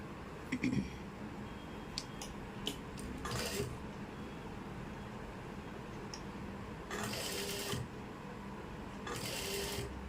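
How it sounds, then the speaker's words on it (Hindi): A sewing machine stitches an anarkali dress seam in three short motor-driven runs, separated by pauses with low background noise. "यहाँ से हम हल्की सी सिलाई दोबारा लगाएंगे और अच्छे से यहाँ से गोलाई करेंगे"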